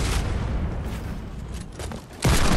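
TNT explosions in Fortnite Battle Royale come as a rumbling, crackling barrage, with one sudden loud blast near the end.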